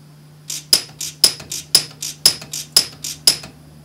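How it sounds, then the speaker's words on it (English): An Orion Pulse welder in rapid-fire mode fires a quick series of about eight sharp, crackling zaps, evenly spaced at roughly two to three per second over a faint steady hum. "we're getting, you know, 2 to 3 welds a second there"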